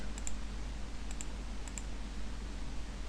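Mouse clicks while erasing with the magic eraser tool in Photoshop CS4: three close pairs of crisp double-clicks, spaced about a second apart, over a faint hum.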